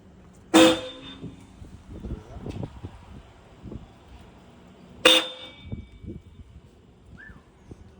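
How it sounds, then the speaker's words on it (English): Hella horns on a 2000 Subaru Impreza wagon sound two short, loud honks spaced a few seconds apart, with quieter movement and handling noise between them. "And here is the after hella horns installed."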